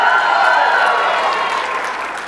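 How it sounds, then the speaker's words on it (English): An audience at an awards dinner applauds and cheers, a dense, loud wash of clapping and voices that holds steady and slowly fades. "These people would cheer for anything now."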